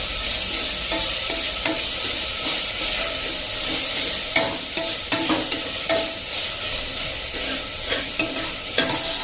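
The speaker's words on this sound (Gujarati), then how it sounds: "બટેટાને પણ પહેલાં સાંતળી લઈએ થોડું" Grated potato sautés in a pot for a one-pot khichdi: a steady, loud frying hiss with a spoon scraping and stirring, the strokes becoming regular and distinct in the second half.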